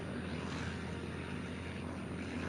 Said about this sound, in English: the tiny planes would rev their engines as they hung from a metal bar called the trapeze